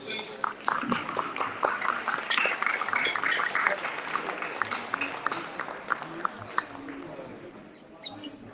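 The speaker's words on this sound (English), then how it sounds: "Can we have one last applause for all our honorees, please?" Audience applause for honorees at an annual awards event, steady clapping from a room of people with a voice speaking over it.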